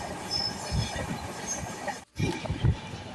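A train slowly pulling out of Coimbatore, a low rumble with rhythmic wheel thumps and a brief dropout, heard from nearby without talk.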